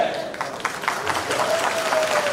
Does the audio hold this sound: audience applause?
yes